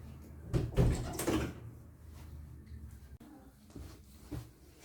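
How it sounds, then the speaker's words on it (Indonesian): A door is pushed shut in a room with a soft thud and rattle, followed by quiet room noise and faint movement. "menutup pintu ya Bu."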